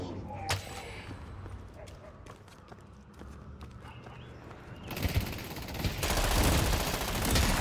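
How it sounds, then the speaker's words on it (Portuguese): Gunfire crackles in a match of the video game Deadlock, with scattered shots early that build into dense, loud sustained firing and bursts near the end, mixed with game effects. "Troca tiro ali com a mulher."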